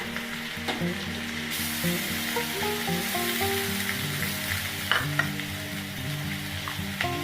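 Onion paste and ginger-garlic paste sizzling loudly in hot frying oil for a loitta fish kofta curry, a constant close crackle with a couple of sharper spatula knocks and faint tonal hum underneath.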